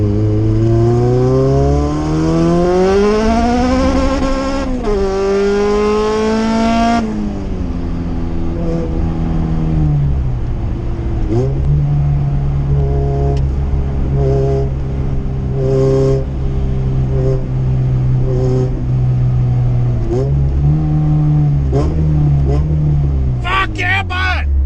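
A turbocharged Honda Civic fitted with a GSR turbo setup revs hard and accelerates, engine pitch climbing then dropping through a 2-3 gear change before settling back toward a steady drone, loud and close throughout.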